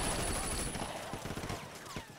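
Gunfire in Sleeping Dogs, rapid bursts of shots crackling over a dense, noisy background, with sharp repeated cracks toward the end.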